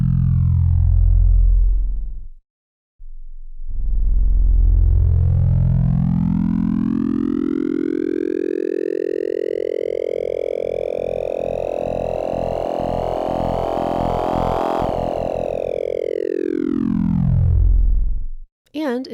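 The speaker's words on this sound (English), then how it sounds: "By controlling the width of the window that the sine wave scans, a variety of different timbres can result." A synthesizer's wavetable sine wave is scanned through a shifting window, producing a single long gliding tone that rises, bends and falls while its timbre brightens and thins, with a short pause near the start.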